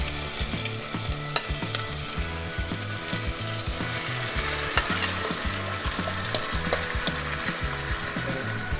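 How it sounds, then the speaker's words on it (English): Marinated mutton fries in a pan over golden-brown onions, giving a steady loud sizzle with repeated scraping stirs and occasional sharp clinks, with a rhythmic musical loop running beneath. "So it's time to add the marinated mutton."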